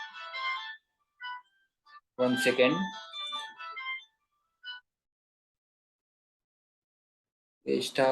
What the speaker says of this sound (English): sorry for the disturbance, the phone was ringing